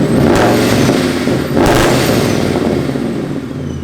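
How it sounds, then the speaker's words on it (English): Ford Mustang GT V8 with a side exit exhaust revving hard, two sharp throttle blips rising into a loud growl and then settling back toward idle, close to the car with no voices. "We have some revs."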